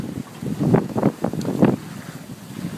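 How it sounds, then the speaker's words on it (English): Wind at sea on a sailboat moving under full mainsail at about 14 knots of wind, heard as a rushing, gusty roar across the microphone in uneven swells, with water motion beneath. "We've got 14 knots of wind here"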